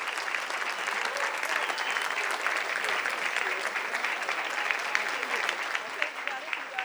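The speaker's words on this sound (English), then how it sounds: "give another round of applause for Anthony Quarles" Sustained applause from a gala audience at a hospital heroes awards ceremony, a steady dense patter of many hands clapping throughout with no break.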